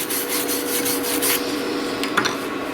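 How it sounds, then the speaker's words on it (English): A wire brush scrubs flux slag off a fresh flux-core weld in quick, rasping strokes, up close, with a short pause and a couple of sharper scrapes near the end. "Now we can brush away the rest."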